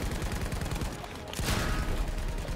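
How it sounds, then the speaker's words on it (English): Rapid automatic gunfire from the video game Battlefield V, a dense continuous burst of shots that runs through the whole moment, loud and close. "I'm shooting left!"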